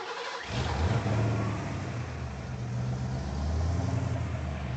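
A Ford Crown Victoria engine with a new exhaust cranks and fires up, then settles into a loud, throaty idle with a couple of revs, close to the microphone.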